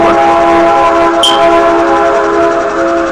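A train passes close by, a steady loud rumble with sustained tonal squeal throughout and a brief high screech partway through, no voices.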